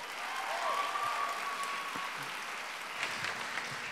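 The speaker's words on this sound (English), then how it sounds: "Give them a round of applause, please." Applause from a pageant audience at a university stage show, a steady dense clatter of many hands filling the whole stretch, fairly distant and even, with a faint whistle-like tone early on.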